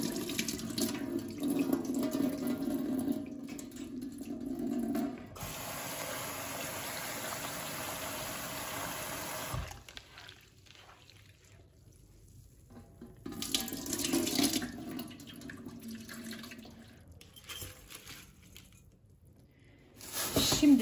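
Finely ground food is rinsed in a sieve under a running kitchen tap, a steady hiss of flowing water that stops and restarts, moderately close with no talk.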